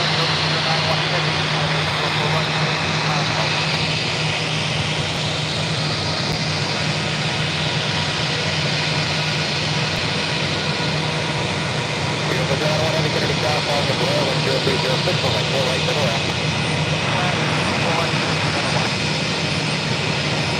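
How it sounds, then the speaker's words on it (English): JetBlue Airways Airbus A320 arriving from Tampa at a JFK gate, a steady broadband engine roar with a constant low hum running throughout, loud and near, with a voice talking over it. "This is JetBlue Airways Flight 225 coming from Tampa, Florida in this A320"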